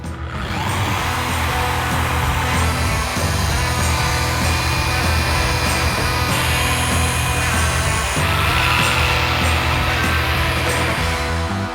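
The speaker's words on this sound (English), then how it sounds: "Now we're going to go ahead and apply our blue compounding pad to the other areas that have been masked" A car polisher with a blue compounding pad runs across the paint of a Toyota Tacoma, a loud continuous motor drone that dips briefly a few times as the pad shifts over the panel.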